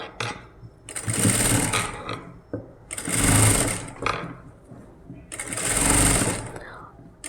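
Sewing machine stitching a puff sleeve on an umbrella gown, three loud whirring bursts of rapid stitching with short pauses between, close up, with a voice speaking at times.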